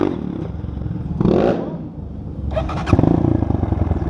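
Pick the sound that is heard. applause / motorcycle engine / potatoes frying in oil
motorcycle engine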